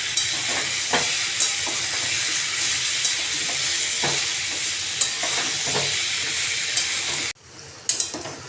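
Dudh shukto vegetables fry with a ground spice paste in a pan, giving a loud, steady sizzle broken by small clicks and stirring taps. The sound drops away abruptly near the end, leaving a few brief knocks.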